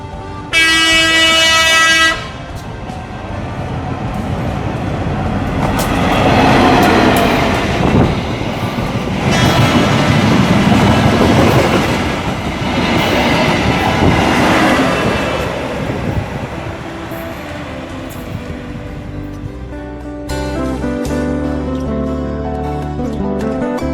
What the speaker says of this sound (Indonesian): sebentar lagi dari kejauhan kita lihat ada kereta api dari Pariaman akan melintas di kawasan ini ya teman-teman, di bawah jembatan flyover ini